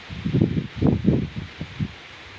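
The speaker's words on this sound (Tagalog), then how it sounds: "malakas ang hangin" Gusts of wind rustle through leaves in several uneven bursts, close and moderately loud, with no voices.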